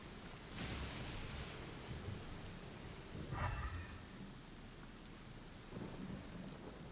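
Thunderstorm in the video game Genshin Impact, with steady rain hissing throughout and a couple of rolling thunder rumbles, one swelling near the middle, at a fairly low level.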